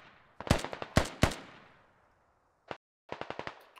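Gunfire in the tactical shooter Squad cracks out in sharp bursts: a cluster of loud shots, a lone report after a pause, then a rapid string of rounds, all fairly distant with no talking.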